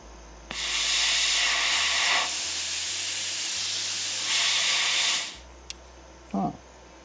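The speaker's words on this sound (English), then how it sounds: "the air definitely blows for a little bit" A Herocut plasma cutter blows air after its trigger is pulled, a loud steady steam-like hiss that starts abruptly, holds for about five seconds, then cuts off, followed by a faint click and a short low rustle.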